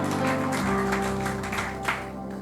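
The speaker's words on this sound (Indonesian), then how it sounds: "Kita berikan tepuk tangan bagi" A church congregation at a Sunday worship service applauds in a dense, steady wash of clapping that holds for the whole stretch, with sustained musical tones ringing underneath.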